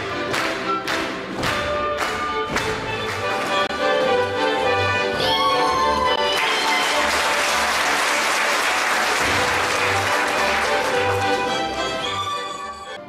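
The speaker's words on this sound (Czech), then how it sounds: "což po zásluze ocenilo ovacemi ve stoje početné publikum" Packed audience giving a standing ovation to a folk song and dance ensemble at its 60th anniversary show. Percussive folk music opens, then strong sustained applause swells and mixes with the music until it fades.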